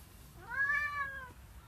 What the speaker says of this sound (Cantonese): 咁我今日要介紹嘅貓係佢啦